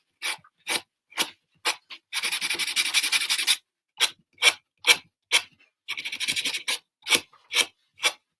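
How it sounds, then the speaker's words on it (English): Sandpaper rubs along an edge of a winged snow globe craft piece in short, close scratchy strokes, first quick single swipes, then a sustained rapid run of rubbing, then more separate strokes. "I'm just going to take a piece of sandpaper. So I'm going to sand this edge."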